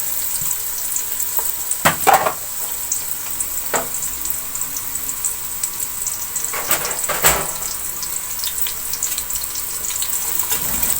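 Chopped, washed onions fry in hot cooking oil, giving a steady close crackling sizzle with a few sharper spits and stirring clatters.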